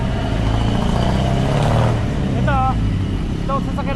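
Roadside traffic with a jeepney passing, a continuous engine rumble with a swell of motor noise midway, while people talk briefly nearby.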